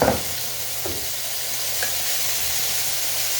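Hamburger steaks fry in a pan with a steady, loud broadband sizzle, a brief louder crackle at the start and faint stirring or clinking on top, with no voices.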